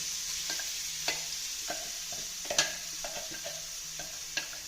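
Crushed spices dropped into hot coconut oil for papadam thoran, giving a steady close sizzle with scattered stirring clicks and scrapes of a spoon against the pan.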